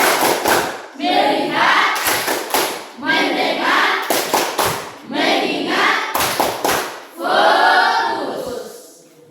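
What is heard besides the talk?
class doing 'tepuk fokus' clapping chant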